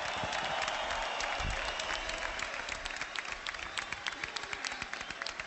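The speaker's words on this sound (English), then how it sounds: "Let's give both fighters a round of applause." Boxing match crowd applauding after a bout, a continuous patter of many hands clapping with sharp individual claps standing out, loud and steady, thinning slightly toward the end.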